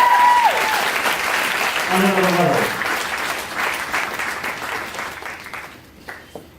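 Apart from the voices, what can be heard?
audience applause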